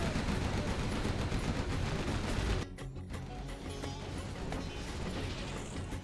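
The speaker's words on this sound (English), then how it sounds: "Artillery coming through now for BoYcaH." Artillery fire in the real-time strategy game Drallim Desert, a tank-versus-stealth match, arrives as a dense, loud barrage of rapid blasts that cuts off abruptly and leaves quieter battle rumble behind.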